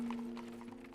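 A horse's hooves clip-clopping as it pulls a carriage quickly along a street, a short run of quick steps over a steady low hum.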